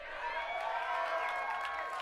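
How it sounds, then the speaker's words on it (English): A crowd at a Hollywood Walk of Fame ceremony claps and cheers for arriving celebrities, a steady wash of distant applause and whoops heard faintly at an outdoor event. "you do not have to hold your applause"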